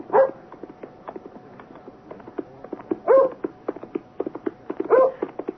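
A dog barks in a radio drama, three sharp barks spaced roughly two seconds apart. Between them comes rapid rhythmic clip-clop, like galloping hooves, and no one talks.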